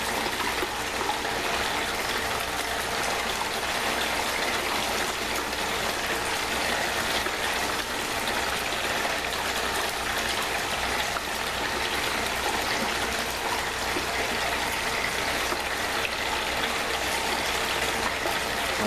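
Water gushes steadily into a recirculating gold sluice loaded with Alaskan paydirt in a garage, a loud, unbroken rushing stream from start to finish with no voices.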